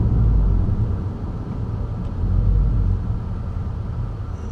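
A Subaru Impreza accelerates beneath a small road bridge, a deep engine rumble that swells and eases in two broad surges, close and loud with no talking.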